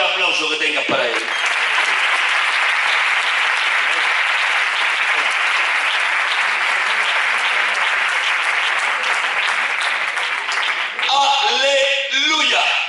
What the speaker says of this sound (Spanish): El mejor aplauso que tengas para Él.